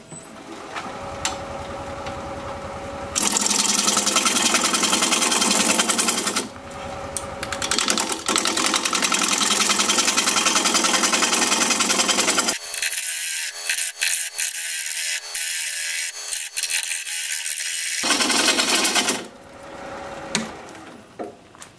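A woodturning tool is being sharpened on a grinder, heard as long loud stretches of harsh, gritty grinding broken by short pauses and changes in tone, with no voices.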